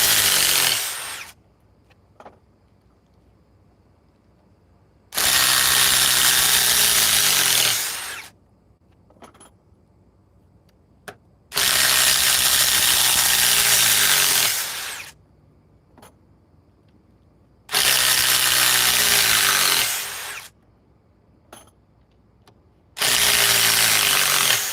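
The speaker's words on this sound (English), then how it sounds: "Let's put this Edge battery through its paces" Ryobi power tool on an Edge battery runs in four loud bursts of several seconds each, a high whirring motor roar that cuts off abruptly into near silence between runs.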